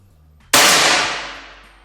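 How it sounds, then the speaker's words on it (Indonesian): A single sharp, loud report from a PCP air rifle firing a Hercules pellet, close by, with a clanging ring that decays over about a second and a half. "Berarti ini tembakan yang ke-21."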